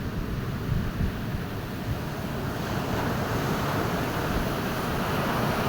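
Ocean waves wash steadily onto a beach on a morning walk, a continuous broadband surf roar with gentle swells and some wind noise, no voices.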